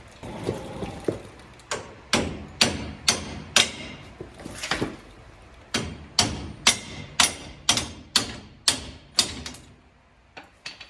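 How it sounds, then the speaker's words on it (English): About fifteen hammer blows ring out on metal in a steady rhythm, with a short pause partway through, while unbolting a rear axle for an S10 pickup. "let me get a hammer"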